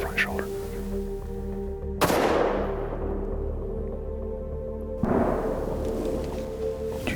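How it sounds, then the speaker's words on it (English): Two sharp distant reports ring out a few seconds apart during a deer hunt, each a sudden crack with a long decaying tail over a quiet outdoor background. "That was definitely a gunshot."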